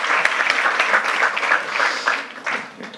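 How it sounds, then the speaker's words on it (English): Steady audience applause, dense and fairly loud, fading slightly toward the end with a brief swell near the close. "can I have a very big applause for this first startup of the day?"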